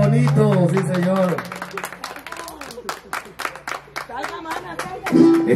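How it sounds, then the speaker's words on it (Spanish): An audience claps as sharp, scattered bursts at a mariachi serenade, heard under a man's loud, sung and spoken voice. "¡Aplausos bonitos!"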